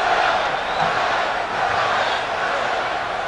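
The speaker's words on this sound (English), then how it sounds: "Let's see what happens as the crowd chants Spud." A basketball arena crowd at the 1986 NBA Slam Dunk Contest chants a player's name, a loud, dense, sustained roar of many voices with rhythmic swells throughout.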